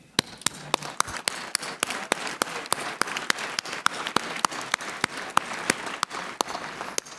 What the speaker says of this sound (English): I would like to propose a round of applause